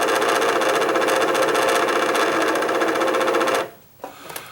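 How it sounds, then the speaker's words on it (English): A Singer XL1000 sewing machine runs with a noisy motor and bad bearing, giving a loud, steady mechanical whir and rattle that cuts off abruptly, followed by a few faint clicks. "That's the noise that the motor is making"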